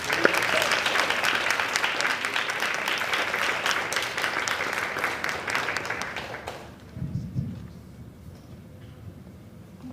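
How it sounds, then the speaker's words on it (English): Applause from the audience at a school board of education meeting fills the room for several seconds, then stops abruptly, leaving a quiet room with faint low murmurs. "So another round of applause for"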